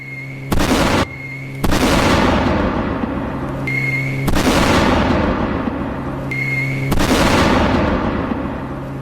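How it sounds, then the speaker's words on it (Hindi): Explosions from a US strike blowing up a drug-carrying submarine, heard as several loud booming blasts with sharp onsets spaced a few seconds apart, each trailing into a long rumbling roar. "यूएस का दावा है कि इधर पनडुब्बी में ड्रग्स था, उसे उड़ा दिया गया"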